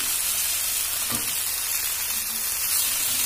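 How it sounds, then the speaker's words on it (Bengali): Soya and egg roll filling fries in hot oil, a dense, continuous close sizzle with a faint stirring scrape partway through and no talk. "ভালো করে নেড়ে নিলাম।"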